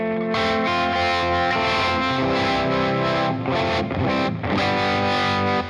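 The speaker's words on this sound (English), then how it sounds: "I want to reverb now, and I'm choosing Ruby Live mode" Electric guitar played through a UAFX pedal reverb in Ruby live mode, a continuous sustained, washy chordal tone with distorted, chorus-like shimmer and a few brief dips, loud and alone without speech.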